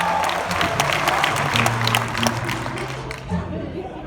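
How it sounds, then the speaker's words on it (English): An audience applauds and cheers to open a puppet show at Knott's Scary Farm, sharp dense clapping up close with crowd noise and some voices mixed in, tapering near the end. "Let's start them off with a lot of applause."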